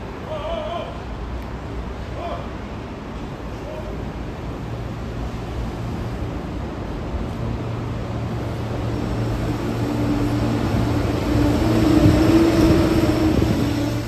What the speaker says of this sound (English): Once it departs, it will continue to run along that big long platform in the middle until it stops at our Terminal A station.